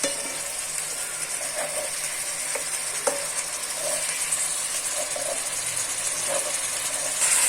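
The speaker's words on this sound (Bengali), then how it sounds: "আসলে মাছগুলো হালকা একটু কষিয়ে আমি তুলে নিব।" Pieces of silver carp sauté in a pan with cauliflower, potato and tomato, giving a soft steady sizzle broken by scattered clicks and scrapes of stirring.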